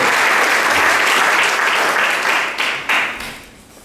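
A church congregation claps loudly during a Sunday service, a dense, sustained burst of applause that surges briefly near the end before tapering off.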